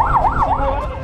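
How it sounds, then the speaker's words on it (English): A police siren wails, sweeping rapidly up and down in pitch, loud and close, over a low traffic rumble during a motorcycle chase. "police respond with sirens and flashing lights"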